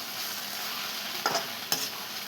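Leafy greens frying with salt in a pan give a steady sizzle, with two brief scraping strokes of a stirring spoon standing out near the end.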